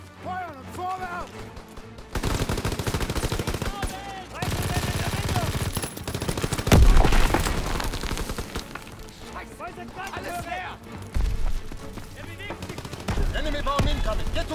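Sustained bursts of machine-gun fire in Call of Duty WW2 rattle loudly in long rapid volleys, peaking in a heavy barrage midway, with shouted in-game voices heard between and over the shooting.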